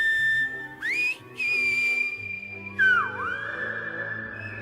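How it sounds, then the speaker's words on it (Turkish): Clear, loud whistled tones carry the Silbo whistled language, with sliding pitches rising and dipping in separate phrases, sustained and piercing over faint background sound. "geçmişten miras kalan bir ıslık dili olan Silbo'yu öğrenmesi gerekmektedir"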